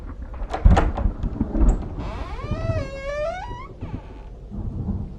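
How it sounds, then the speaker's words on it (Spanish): A creaking door swinging open as a sound effect in a spoken horror story, a drawn-out wavering squeal of hinges lasting over a second, preceded by heavy thumps and low rumbling, with no talk during it. "Se abrió su puerta."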